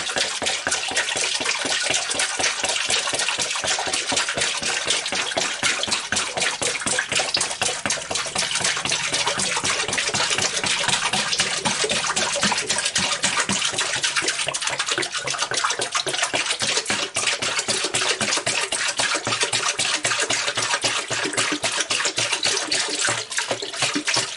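Water pours and splashes into a bar tube in a long, continuous rushing stream, loud and close throughout, with no talk.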